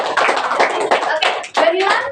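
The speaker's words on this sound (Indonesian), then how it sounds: "Tepuk tangan dong" A class of children claps hands together in a quick, loud burst of overlapping claps that fills the room, with a short pause before a second round.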